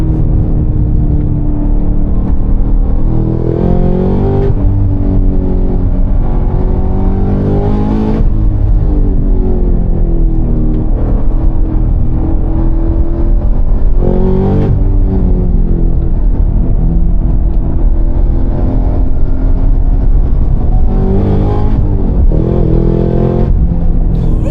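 A loud, raspy straight-piped Cadillac CT5-V Blackwing exhaust revs repeatedly, rumbling deep and rising with each throttle blip, continuous and close with no talking.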